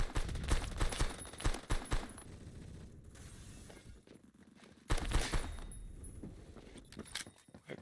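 Rapid bursts of gunfire in the shooter game Phantom Forces, two clusters of fast cracking shots separated by a quieter gap, fairly faint overall.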